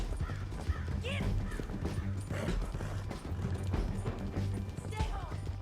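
Horse hooves galloping in Red Dead Redemption 2, a steady, rhythmic clip-clop that runs throughout the clip, with a voice speaking over it.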